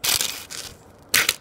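A house phone is smashed in three sharp crunching bursts, loud and close: a harsh crack at the start, a softer crunch in the middle, then a final heavy crushing impact, with no talking.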